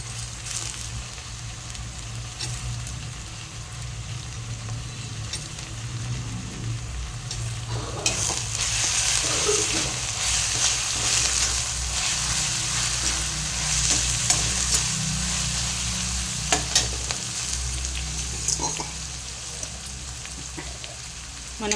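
Spinach and mixed leafy greens stir-fried in a pan, a steady close sizzle with stirring scrapes throughout, growing louder and hissier midway as the greens hit the heat, with no talking.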